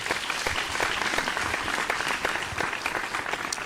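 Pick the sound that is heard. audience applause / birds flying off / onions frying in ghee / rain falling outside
audience applause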